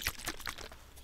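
A small package from a box, its peeled-back foil lid opened, is shaken close up in a quiet ASMR setting, giving a few soft crinkly rattling bursts over about a second.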